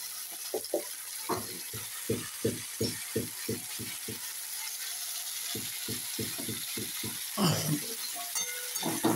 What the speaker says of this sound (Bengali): এবার ফুলকপি আর আলুটাকে ফুলকপিটা একটু লাল লাল করে ভেজে নেব।